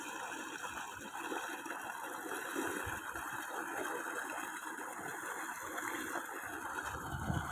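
Irrigation water flows steadily through a groundnut field, a continuous low gushing rush with a faint engine or pump hum running underneath, even and unbroken with no voices.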